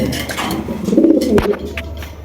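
A racer pigeon gives a brief low rolling coo close by, a single short burst over a faint background.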